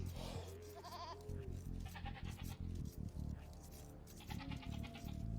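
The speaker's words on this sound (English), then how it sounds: "Moving the sheep around a little bit," Sheep bleat in an Age of Empires 2 match, several short wavering calls scattered over the stretch beneath steady game sounds and someone talking throughout.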